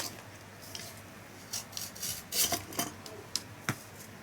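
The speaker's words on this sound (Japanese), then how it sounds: "合わし目の部分は先にだいたい削っておきます" A blade shaves the joint ends of bamboo strips for a square bamboo basket, producing close, irregular scraping and rasping strokes that grow busier toward the end.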